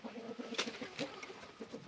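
A Zonguldak chicken clucks softly in a quick series of short, low calls, faint and fairly close, with a few higher notes mixed in.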